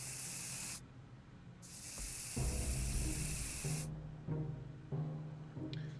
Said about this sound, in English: I'll give her bug spray. Do something about this fly.